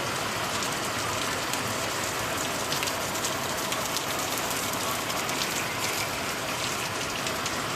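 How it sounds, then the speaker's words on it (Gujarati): Heavy unseasonal rain pours steadily in Vav-Tharad district, Gujarat, at the end of December: a dense, continuous hiss of drops on surfaces that holds at an even, loud level throughout with no voices. "વરસાદ આવે છે જોરદાર."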